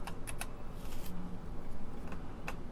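Quiet, irregular clicks of fingers typing on the keyboard of a SWTPC CT-1024 computer terminal kit, a few sharp keystrokes scattered over a soft background hum.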